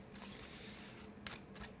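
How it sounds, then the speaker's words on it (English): Tarot cards are riffled in a rough shuffle, a few quick papery flutters and snaps close by, with short bursts near the start and again toward the end, no talking. "I'm trying to get like a rough shuffle here to kind of tell me it's time"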